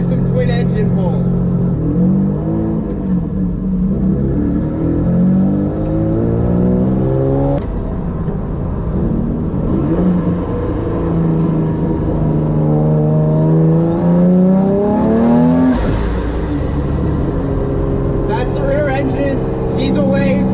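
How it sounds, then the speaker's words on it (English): A twin-engine boat roars through hard pulls, its pitch climbing and falling in long sweeping revs, loud and close, with someone talking over parts of it. "And then I will move on and do some twin engine pulls."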